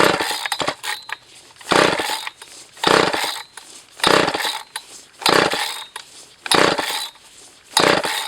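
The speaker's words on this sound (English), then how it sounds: "When the chainsaw drowns, it's hopeless." Old McCulloch chainsaw engine, likely a PM 360 or 370, surging at full throttle while flooded, in repeated loud bursts roughly every second that fade between rises and falls.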